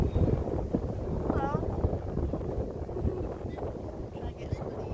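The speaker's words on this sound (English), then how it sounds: "Very windy last day." Strong wind buffets the microphone in a steady rumbling roar on a boat trip in Egypt, with water sloshing, and someone says a word over it.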